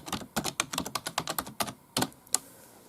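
Rapid clicking keystrokes on a computer keyboard while typing a search into the Windows 10 Start menu, a close burst of about a dozen uneven taps followed by a couple of isolated presses.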